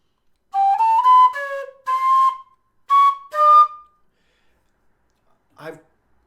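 Low D tin whistle played in its upper register, a few sustained high notes in separate phrases with brief gaps, close and clear, followed by a short breathy noise near the end.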